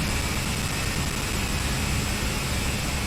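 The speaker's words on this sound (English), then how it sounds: "you get to see the planes coming right over your head." Aircraft passing overhead near Las Vegas, a steady, loud broadband roar of a plane on approach, sustained throughout with no talking.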